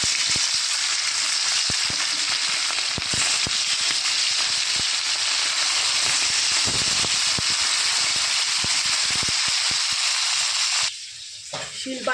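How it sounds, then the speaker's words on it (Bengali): Parshe fish frying in oil in a home kitchen, a steady loud sizzle and crackle running continuously, dropping away near the end. "ওই তেলেই বাদ বাকি যে মাছগুলো আছে সব ভেজে নেব।"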